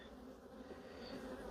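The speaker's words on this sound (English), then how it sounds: "a lot of these bees that are in this hive will clear off to the original hive" Honey bees at an open hive in a quarantine apiary make a soft, continuous buzzing drone, steady and fairly faint, with no voices over it.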